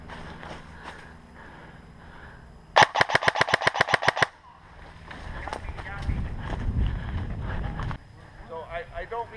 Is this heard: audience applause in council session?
no